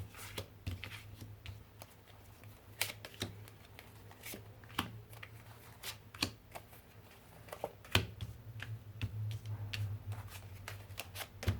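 Tarot cards are shuffled by hand for a nine-card reading, producing quiet, continuous riffling and flicking with frequent soft snaps over a low steady hum.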